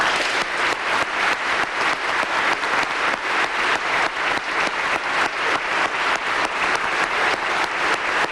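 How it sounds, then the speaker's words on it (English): A sustained round of applause from a large audience at the 138th Cleveland Police Academy graduation ceremony, loud dense clapping filling the hall at a steady level throughout. "Could you give them a round of applause?"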